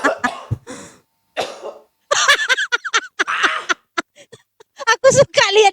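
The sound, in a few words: coughing after choking on cigarette smoke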